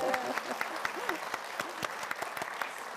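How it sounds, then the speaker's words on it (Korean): Church congregation clapping during a testimony service, a brisk patter of many hands with a few sharper claps standing out, while a voice speaks over it at the start. "박수 한번 쳐야 되는 거 같아요"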